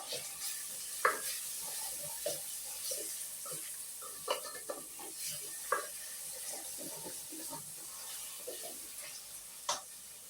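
Onions fry in oil in a pan with a soft continuous sizzle, broken by intermittent scraping and stirring clicks of a utensil against the pan.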